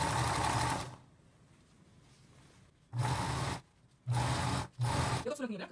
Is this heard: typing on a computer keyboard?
no